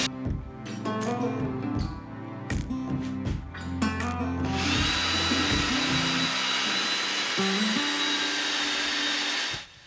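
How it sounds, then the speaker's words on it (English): Some clattering and rubbing, then a power drill whirs loudly and steadily for several seconds drilling through a steel bracket for a trailer leveling jack, before stopping abruptly at the end. "I decided to drill the holes just a little bit offset"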